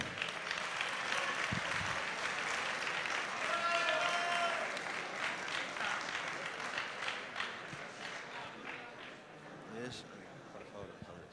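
Audience applause rings out at a university tuna music contest's awards ceremony at UPM: sustained, full-room clapping that gradually thins, with voices talking through and over it.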